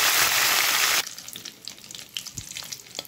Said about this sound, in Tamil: பாருங்க கருவேப்பிலை போட்டுறலாம்